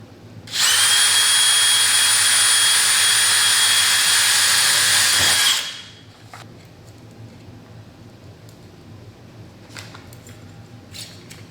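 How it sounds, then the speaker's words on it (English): A power drill bores extra holes through plastic on an RV during an LED lighting upgrade, one loud steady whine lasting about five seconds, then faint handling noises and light clicks follow. "So I'm just drilling a couple of extra holes."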